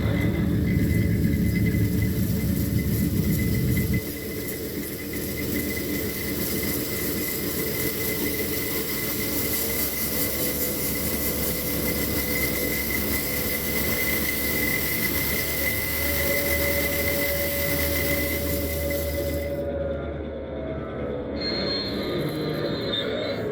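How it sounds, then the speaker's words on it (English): A 1.5-inch scale, 7.5-inch gauge R/C SW1200 locomotive runs with its throttle-linked sound card, giving a continuous diesel rumble and high steady whine that shifts after a few seconds, ending in a sudden drop near the close. "the sound card is actually hooked up to the throttle, obviously. So when you're going forward, it'll notch up on you"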